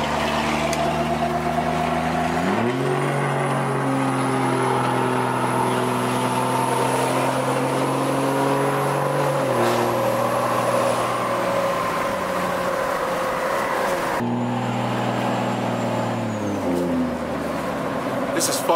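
A Cummins diesel truck fitted with a Smeding S464 turbo revs and accelerates up close, its engine tone climbing steadily in two surges with a rising turbo whistle, over loud continuous road and cabin noise.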